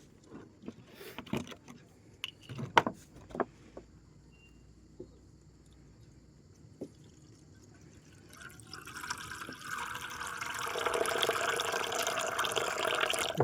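Water is poured into a pigeons' drinking container, starting with scattered light taps and knocks, then swelling into a steady, fairly loud splashing fill that carries on to the end.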